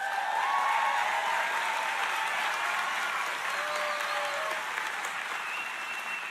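Audience applause fills a graduation ceremony hall, a steady dense wash of many hands clapping at once that holds strong throughout and eases only slightly toward the end.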